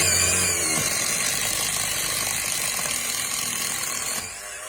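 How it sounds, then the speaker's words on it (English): A power drill pre-drills anchor holes for the posts of a glass railing, giving a steady, loud, gritty mechanical whir that runs on without a break and drops away abruptly near the end. "pre-drilling the holes for all of the external posts for our anchors"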